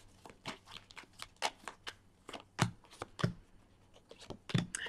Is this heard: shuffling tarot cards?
yes